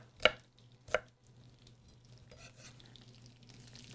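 A knife rough-chops a shallot on a cutting board in a home kitchen: two sharp, close chops about a second apart, followed by quiet kitchen background with a low steady hum.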